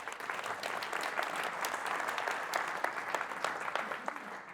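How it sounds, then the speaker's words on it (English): A small crowd at a real estate investor group meeting applauds, a dense, even patter of many clapping hands heard from a slight distance, with no talk over it. "Can we give these guys a round of applause?"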